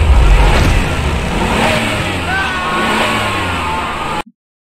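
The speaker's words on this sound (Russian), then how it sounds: "Машина!" A car engine revving loudly in a horror puzzle game, a strong steady roar with rising and falling pitch that cuts off abruptly.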